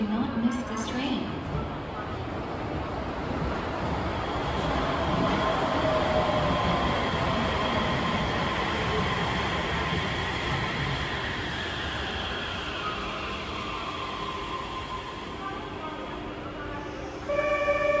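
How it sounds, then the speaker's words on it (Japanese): A Yurikamome train rumbles and screeches as it pulls into Shiodome Station as the last train of the day, a long steady roar with a rising squeal, while a public announcement plays over it. "The train arriving shortly at platform 1 is the last train for Tuosu today."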